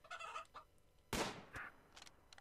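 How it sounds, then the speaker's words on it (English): Chickens in the video game Rimworld clucking and squawking up close in short, sharp bursts, with one louder squawk in the middle. "Oh my god, it's two sets of chickens."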